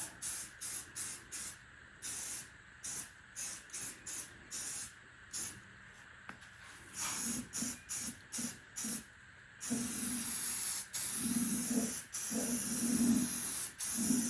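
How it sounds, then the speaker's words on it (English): Warmed aerosol spray paint can hissing in a string of short bursts onto a guitar kit, then longer continuous sprays near the end, close and fairly loud. "That can is nice and warm. It just helps things spray better."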